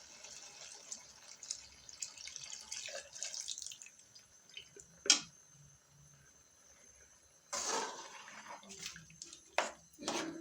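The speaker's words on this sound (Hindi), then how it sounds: "और अब हम इसमें दूध शामिल कर रहे हैं 1 लीटर" One litre of milk is poured into pumpkin halwa in a pan, heard as intermittent splashing and gurgling bursts of liquid, close, with quiet gaps between pours and no talking.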